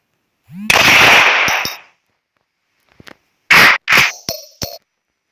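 Pistol gunshots from the mobile video game iGun Pro, a few sharp close bangs with clicks and brief rattles of the slide in between, separated by short silences.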